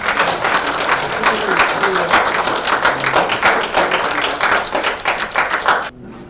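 A forum audience applauds an award presentation for a special merit certificate. Loud, sustained clapping from many hands fills the room evenly for about six seconds, then stops abruptly.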